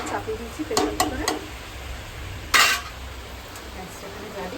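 Mutton cooking in a pressure cooker, with sharp metal utensil clinks and a few stirring scrapes over a low, steady background hum.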